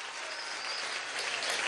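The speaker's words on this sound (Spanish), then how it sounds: "Otro aplauso al Guárico y a la misión Chamba Juvenil." An audience at a Venezuelan presidential event for the Gran Misión Chamba Juvenil applauds, a steady, dense and fairly distant roar of clapping from a large crowd without talk.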